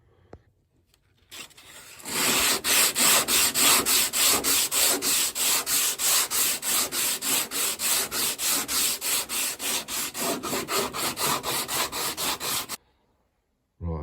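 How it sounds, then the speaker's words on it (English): A sanding block rubs back and forth over filler on a fibreglass arch fitted to a BMW E30, about thirty quick, even, close strokes in a steady rhythm, with no talk. "I've given it a sand down with a block"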